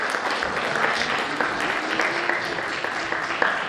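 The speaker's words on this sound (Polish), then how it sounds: "Wielkie brawa!" Sustained applause from a crowd at a Third Way party convention in Płock, greeting candidates for the county council. Steady, dense clapping fills the hall throughout without a break.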